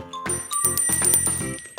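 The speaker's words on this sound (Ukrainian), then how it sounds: "Так, звук дзвоника." A small bell rings in several quick, bright strokes, close and clear against a quiet background, each tone ringing briefly before the next.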